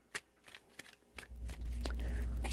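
Tarot cards are shuffled, with a string of crisp riffling snaps and short flutters that build into a steadier, denser rustle, close to the ear with no voices.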